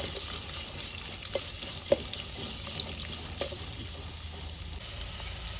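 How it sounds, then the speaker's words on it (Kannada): Chopped onion frying in a pan for South Indian brinjal curry, a constant close hiss and crackle with a few soft clicks and taps of stirring, no talk. "ಈಗ ಒಂದು ದೊಡ್ಡ ಆನಿಯನ್ ಹಾಕ್ತಾ ಇದ್ದೀನಿ. ಸ್ವಲ್ಪ ಆನಿಯನ್ನು ಸ್ವಲ್ಪ ಕಲರ್ ಚೇಂಜ್ ಆಗಬೇಕು."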